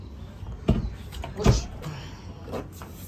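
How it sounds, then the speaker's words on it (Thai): Rear door of a 2014 Mitsubishi Pajero 2.5 GT being opened: a sharp latch click followed by a heavier thump from the door, close and fairly loud, then quieter rustling, with no talking. "แล้วเปิดประตูหลังก่อนนะครับ"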